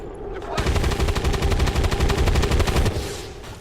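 Sustained rapid automatic weapon fire from XCOM 2 Long War, a dense burst of repeated shots lasting about two and a half seconds after a brief quiet start, loud and continuous before cutting off.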